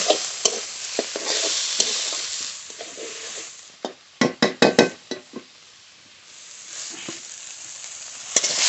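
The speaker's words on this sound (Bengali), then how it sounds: "এবার নেড়ে নেড়ে একটু ভেজে নেব" Water lily stems stirred and fried in a pan: soft sizzling underneath a burst of quick, sharp spatula scrapes and knocks against the pan in the middle, then quieter frying.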